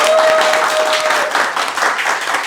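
Second-grade students applaud in a classroom with a burst of dense, steady clapping that fills the whole moment and tapers slightly near the end.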